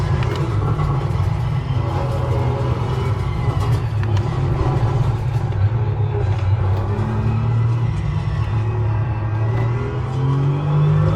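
A race car engine in the video game Assetto Corsa Competizione drones loud and steady with a low rumbling tone and gentle pitch shifts, running alone without speech.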